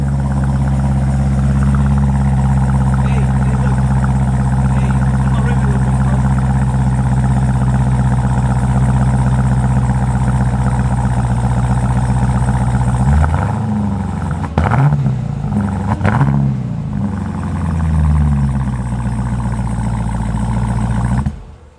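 A stock Dodge Durango Hellcat's supercharged engine idles with a deep, loud, steady rumble close by, then revs several times near the end before cutting off abruptly, with no talking.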